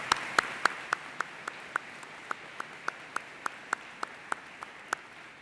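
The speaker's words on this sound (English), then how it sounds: "Please join me in giving them a round of applause." At a college commencement ceremony, the audience applauds the faculty. Sharp, evenly spaced claps ring out one at a time in a steady rhythm, sparse and somewhat distant in a large hall.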